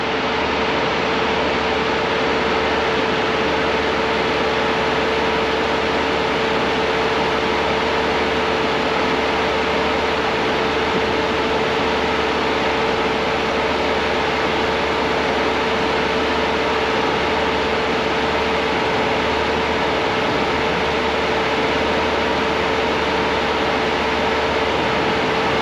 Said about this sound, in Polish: Załączył nam się wentylator po raz drugi.